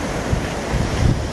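Ocean surf on an Atlantic beach, washing ashore as a steady broadband rush with low rumbling swells, mixed with wind buffeting the microphone and no voices.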